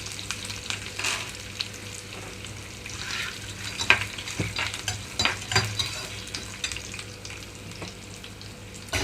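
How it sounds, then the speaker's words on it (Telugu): Oil sizzles steadily as peanuts are fried and stirred in tempering oil, with occasional scrapes and clinks of a spoon against the pan. "ఇప్పుడు వేస్తున్నాను పల్లీలు"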